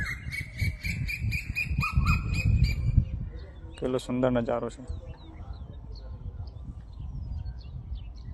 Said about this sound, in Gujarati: કેટલો મધુર અવાજ છે કોયલનો।